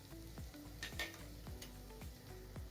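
Spices stirred in a sizzling pan of oil for Maharashtrian katachi amti, with a steady quiet fry hiss and repeated scraping strokes of a spoon against the pan, close and faint.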